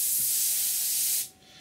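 Airbrush spraying camouflage paint on a Seafire scale model aircraft, a close, steady hiss of air and paint lasting just over a second before cutting off, then a brief final burst.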